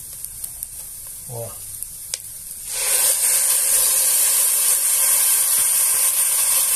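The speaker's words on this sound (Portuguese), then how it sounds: "Aqui agora nós já podemos colocar o vinho" White wine splashes into a hot pan of onions and rice for a creamy shrimp risotto, bursting into a loud, steady sizzle and hiss after a brief spoken word and light clinks.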